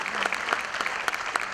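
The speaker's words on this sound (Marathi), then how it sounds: "यांच्यासाठी सुद्धा एकदा जोरदार टाळ्या वाजल्या पाहिजे" Applause from a crowd honoring the band and musicians at a Marathi live music show, dense continuous clapping heard at moderate distance for a short burst with no talk over it.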